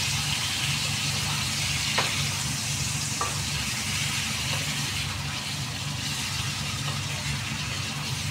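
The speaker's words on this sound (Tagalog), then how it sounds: "Ayan, gisa-gisa." Ingredients for chicken masala sizzle and fry steadily in a pan while being sautéed and stirred, a close, continuous hiss with occasional light scrapes.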